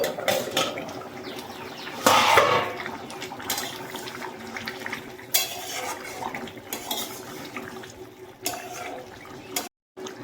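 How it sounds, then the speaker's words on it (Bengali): A metal lid clanks off a cooking pot of chicken curry on a home stove, one sharp clatter followed by softer scraping and utensil clinks. "ঢাকনাটা খুলে নিচ্ছি"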